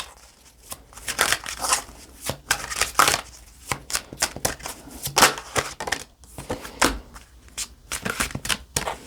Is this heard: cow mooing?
no